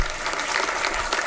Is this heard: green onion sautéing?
no